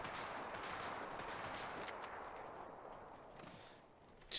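Distant gunfire rattles in Apex Legends on the World's Edge map, a dense run of faint overlapping shots and bursts under a steady game background, with no talking.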